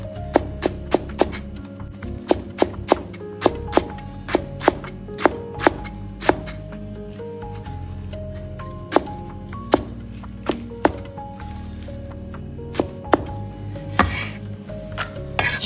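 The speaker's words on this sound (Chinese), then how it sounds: "再顶刀切成粗粗的细丝。" Chinese cabbage being cut into thick shreds with a knife on a board: a steady run of crisp, close chopping thunks, quick clusters and then more spaced strikes, with no voices.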